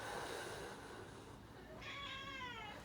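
A domestic cat meows once, a clear rising-falling call close by, over a steady background hiss.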